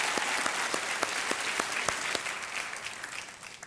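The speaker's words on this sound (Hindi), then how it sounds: "बहुत बहुत स्वागत इनका किया जाए तालियों के साथ।" A studio audience on the quiz show Kaun Banega Crorepati applauds steadily, a dense and continuous patter of clapping that holds at an even level throughout and tapers off only slightly at the end.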